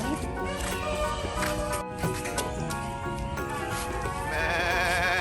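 Sheep bleat repeatedly amid a busy, noisy sheep farm in Pattaya, with people talking and background music running throughout.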